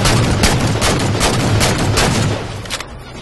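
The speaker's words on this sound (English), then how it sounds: "I shot the guy like 3 times with a shotgun" Rapid shotgun blasts in a Halo 4 multiplayer Slayer match, a dense run of loud booming shots packed close together, easing off toward the end.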